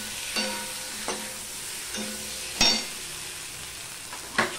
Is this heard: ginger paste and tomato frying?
yes